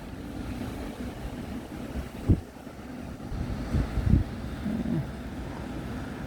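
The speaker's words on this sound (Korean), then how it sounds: "바람도 너무 세게 불고 있어요" Strong wind blowing at night during snowfall near Jeju Airport, a steady rushing roar buffeting the microphone, with a few brief louder gusts and thumps standing out.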